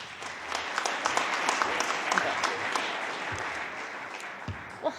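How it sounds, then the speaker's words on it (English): A conference audience at a data summit claps for a panel moderator, sustained applause at moderate distance with a few louder individual claps near the end, and talk faintly underneath. "So please give Chris a round of applause."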